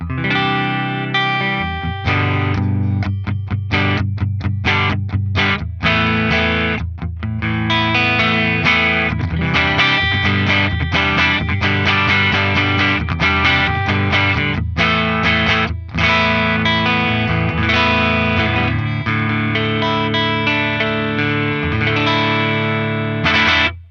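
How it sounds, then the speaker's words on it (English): Distorted electric guitar chords ring out loud and full through a Revv Generator 100R Mk. III amplifier with its wide switch on, giving a wide, spacious stereo effect, played rhythmically with brief stops. "let's check out what it sounds like with the wide switch on"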